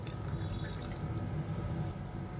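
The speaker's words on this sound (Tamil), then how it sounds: "இப்போ மிக்ஸி அலசிட்டு கொஞ்சமாக தண்ணி சேர்த்துக்கலாம்." Water trickles and drips into a mixer grinder jar after chutney has been ground, a soft, close, continuous pour with light splashing and no talking.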